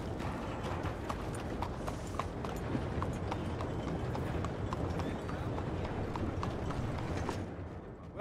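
Horse hooves clip-clop steadily in Red Dead Redemption 2, a continuous run of close hoof strikes over a dense ambient game background.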